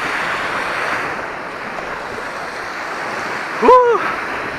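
Sea surf washes steadily on the shore near Odesa, with wind buffeting the microphone; a short voice or cry breaks in near the end.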